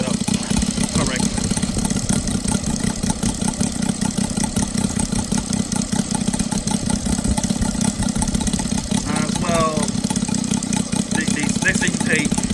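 A Saito FA-90 R3 model aircraft engine, fitted with an MMM CDI ignition and a converted intake, runs up loudly and continuously at close range, its rapid firing rasping throughout.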